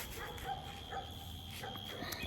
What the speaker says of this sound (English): I'm running away from those dogs, it's making noise.